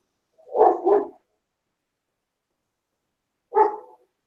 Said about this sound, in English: where's that dog coming from?